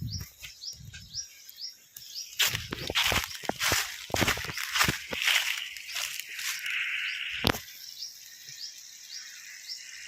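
Water from an old well splashes and gushes into a farm field in uneven bursts, with crickets and birds chirping softly around it and no voices.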